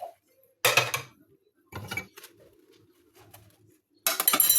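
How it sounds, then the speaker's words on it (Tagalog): Plates and dishes clink during washing, arriving in short separate bursts of bright clatter with quiet gaps between them, close by and with no talk. "Guys, ang hugas ko plato guys."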